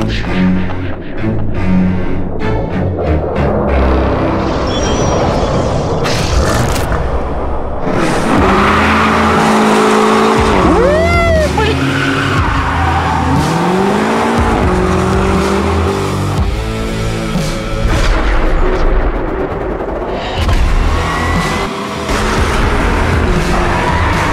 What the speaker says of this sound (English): The BMW M8 competition.